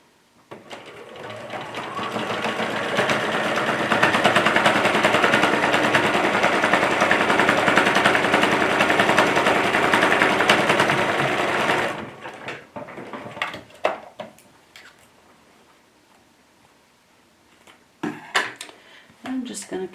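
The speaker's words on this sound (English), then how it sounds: "I'm just going to stitch straight down this line that I created with a straight stitch" A domestic sewing machine runs a straight stitch in one steady, loud whirring burst lasting about twelve seconds, then stops, followed by a few scattered clicks and handling noises.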